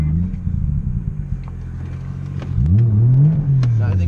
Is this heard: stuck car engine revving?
yes